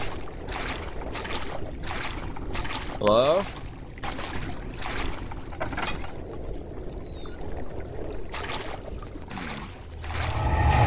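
Water in the horror game Amnesia: The Dark Descent sloshes and splashes in a rhythmic run of wading strokes, with a voice talking briefly over it.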